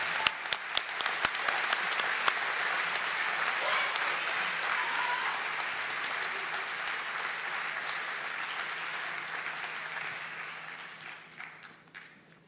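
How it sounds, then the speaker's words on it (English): A seated audience at a 2019 senior athletic awards ceremony gives the award winners a round of applause, sharp scattered claps at first swelling into a full, steady ovation that tapers off near the end. "Let's give them a round of applause."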